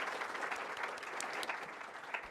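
A crowd claps steadily, a dense patter of many hands at moderate distance, sustained without pause.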